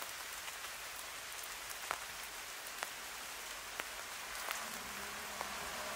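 Rain falling steadily in a forest at Khao Yai, a soft continuous hiss punctuated by scattered, sharper drops landing on leaves nearby.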